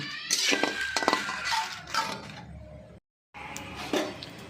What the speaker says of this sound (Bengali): কড়াই বসিয়ে দিয়েছি কতগুলো শুকনো লঙ্কা একটু নেড়ে নিচ্ছি